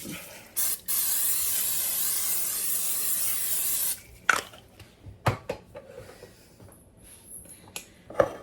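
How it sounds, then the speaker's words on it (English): Cooking spray sprayed inside a crock pot: one short spritz, then a steady hiss of about three seconds, followed by faint rubbing, clicks and light handling sounds. "go ahead and spray the inside"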